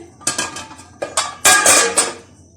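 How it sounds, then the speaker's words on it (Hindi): Metal stand and cake pan set down inside a preheated cooking pot for an oven-free chocolate walnut cake, giving several sharp metallic clanks and scrapes in quick succession, close and fairly loud. "सबसे पहले इसके अंदर स्टैंड रखेंगे और स्टैंड के ऊपर केक का बर्तन रख देंगे।"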